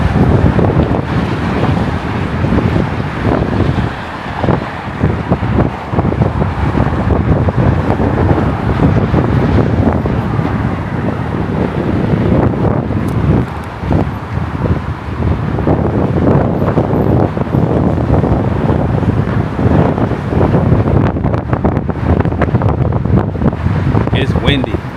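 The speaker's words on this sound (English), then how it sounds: "Awful windy. It's windy." Strong wind buffets a Miami hotel corner balcony overlooking the bay and city, a loud, continuous roar and rumble of gusts battering close against the microphone for the whole stretch.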